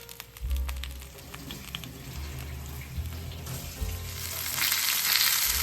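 Marinated vanjaram fish pieces frying on a hot tawa, a close crackling sizzle with low bubbling thumps and a rising hiss toward the end, alongside faint running water.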